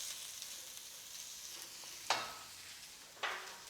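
Onions and garlic frying in a pan give a steady, quiet sizzle, with two brief louder bursts as the pan is stirred or food shifts.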